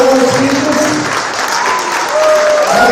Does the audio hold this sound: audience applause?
yes